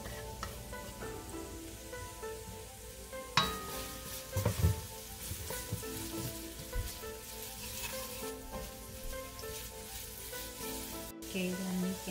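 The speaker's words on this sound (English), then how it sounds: "We can start sauteing our garlic and" Garlic, onion and ginger sauté in a tablespoon of hot oil in a pan, giving a steady sizzle with bursts of crackle and spatula scrapes as the pieces are stirred, close and unaccompanied by talk.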